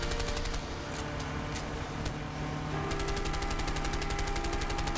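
Rapid bursts of automatic gunfire in the video game A Way Out rattle steadily over a constant mechanical drone, with rhythmic shots continuing throughout.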